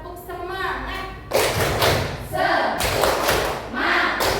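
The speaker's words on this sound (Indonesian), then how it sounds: "Tepuk semangat." A group doing a spirited 'tepuk semangat' clapping chant at the start of a university lecture: a voice speaks first, then bursts of loud, rhythmic, close clapping fill the rest.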